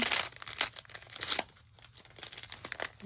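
A gift bag is opened, with bursts of crinkling and rustling paper or tissue close by, coming in uneven handling clusters across a few seconds.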